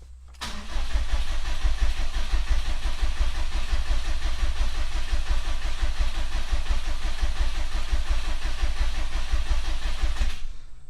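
A Subaru STI engine cranks steadily in a startup attempt without catching, giving a loud, continuous rhythmic starter churn for about ten seconds, close by with no talking.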